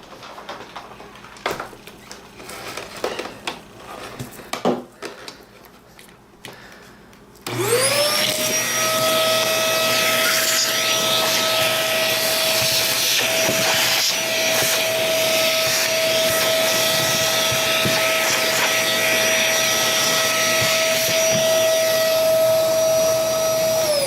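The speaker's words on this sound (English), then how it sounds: "Okay, vacuum it up again." After some scattered knocks and shuffling, a vacuum cleaner switches on abruptly and roars continuously at close range sucking up plaster on a model railroad layout, with a steady high whine on top.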